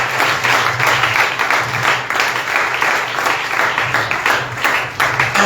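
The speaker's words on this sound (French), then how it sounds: "est-ce qu'on peut acclamer pour notre Seigneur?" A church congregation claps and cheers continuously, a thick sustained round of applause with a rippling rhythm and no voices standing out.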